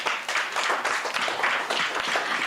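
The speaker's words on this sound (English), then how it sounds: "A bigger round of applause." Audience at a PLHIV leadership summit breaks into sustained applause, dense clapping filling the room steadily for a couple of seconds without pause.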